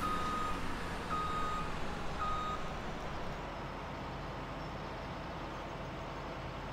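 A farm vehicle in Farming Simulator 17 backs up, its reversing alarm beeping in a steady repeating pattern over a low engine rumble, moderately quiet and unaccompanied by talk.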